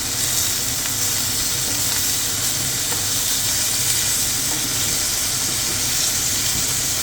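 Meat searing in a hot pan for a bourguignon-style daube base, a steady, continuous loud sizzle with crackling spatters and no voices, holding even throughout.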